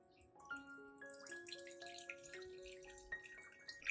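Turmeric solution poured through a strainer, trickling and dripping in a quick series of small, clear, ringing drops that stay faint and close, with no talk.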